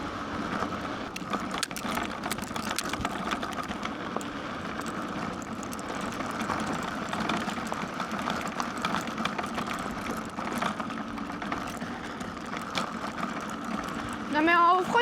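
An iScooter iX6 electric scooter cruises at about 40 km/h, a steady whining motor hum mixed with rolling road rumble and wind buffeting, running continuously throughout with a brief louder burst at the end.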